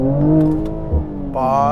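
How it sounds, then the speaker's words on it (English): A 2021 Mercedes-Benz AMG C43 pulling away hard from a stop, its engine a loud steady drone that dips briefly then rises again in pitch as it picks up speed, heard from inside the car without talking. "So if I take off from the line here, from the light here, or from the stop sign here, off the line"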